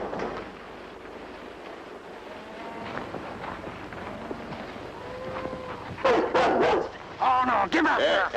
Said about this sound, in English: Dog don't ride up here with me.